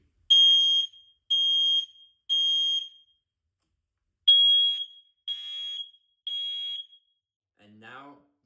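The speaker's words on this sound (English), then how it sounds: "First, the fire alarm, code 3." A home smoke detector sounds its code 3 fire alarm: a loud, shrill beep three times, a pause, then three more, followed by a brief low voice.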